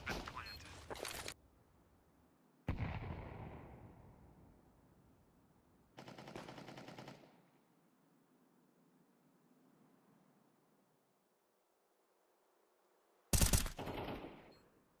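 Bursts of automatic gunfire in a Counter-Strike match: a rapid volley, a second loud burst, another around the middle, then quiet before a final sharp burst, each trailing into a decaying echo.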